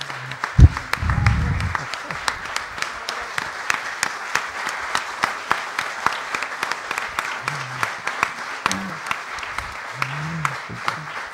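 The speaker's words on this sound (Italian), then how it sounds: "non arriveremo mai a dare il premio se non facciamo un piccolo intervallo nell'applauso" An audience applauds at the Glass in Venice 2017 award ceremony, sustained dense clapping throughout with a brief voice speaking over it near the start and more short speech later.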